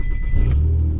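A Toyota Tacoma pickup engine turns over and catches, the mid-range engine rumble rising briefly as it fires up close by, with no speech.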